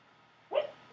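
Milo, a sleeping dog, lets out a single short muffled bark or yip while dreaming, one brief burst that stands out clearly against a quiet room.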